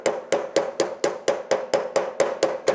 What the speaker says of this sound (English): just want to take our hammer and lightly start bringing it in